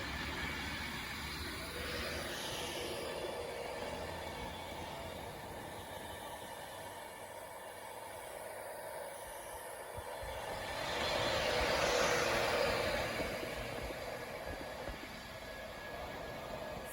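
An Avanti West Coast Class 390 train pulls into Wigan North Western station, a steady broad rumble building to a louder swell near the end as it draws close, no talking.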